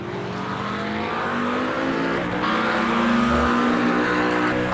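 A McLaren race car's engine at the Nürburgring in iRacing, a steady loud whine that shifts pitch as it holds and climbs, with tire noise and another car's drone underneath.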